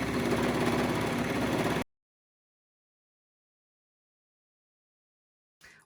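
A sewing machine stitching a waistband onto leggings: a steady, close mechanical whir that runs for about two seconds and then stops dead, followed by silence and a brief soft noise at the end.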